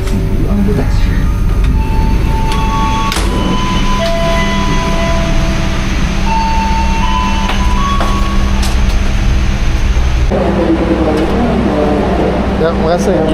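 A Singasari economy-class train rumbles and screeches to a halt at Kediri station, with steady heavy rolling noise, tonal brake squeals and rail clanks, then quieter hubbub with people talking once it stops.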